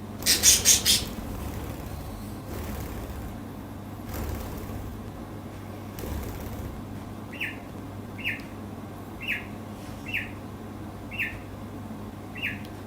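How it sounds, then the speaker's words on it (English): A pet bird gives a short run of loud, close squawking chirps at the start, then a series of soft, evenly spaced chirps repeat over a low steady hum. "That's her content chirp."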